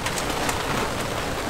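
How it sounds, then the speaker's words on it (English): Steady rain falling on outdoor surfaces in Philadelphia, a continuous broadband patter that holds at an even level throughout with no voices. "Got a little rain today."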